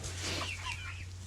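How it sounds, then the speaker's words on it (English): Farmyard chickens clucking softly at close range in the morning, a few brief calls over a steady low hum. "Morning, chickens."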